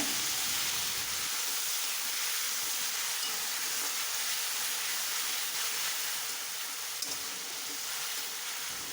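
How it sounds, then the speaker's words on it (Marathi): Ground masala paste sizzles as it is sautéed in oil in a pan for samosa chutney, a soft, steady hiss with a brief stirring scrape partway through, close and uninterrupted. "आपण वाटलेला जो मसाला आहे तो आता इथे आपण परतवून घ्यायचा"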